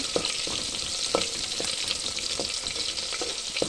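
Fish frying in a pan gives a dense, continuous sizzle and crackle, broken by soft clicks and scrapes from stirring or turning throughout, close up with no talking.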